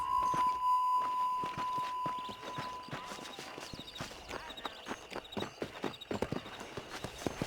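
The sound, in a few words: horse hooves while riding in video game Red Dead Redemption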